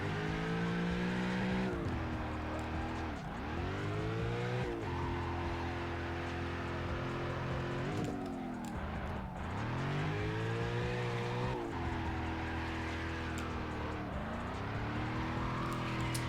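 Cars in the CarX Drift Racing Online video game revving and sliding through drifts and spin-outs, with engines rising and dropping in repeated swells and tire squeal, steady and loud with no talk.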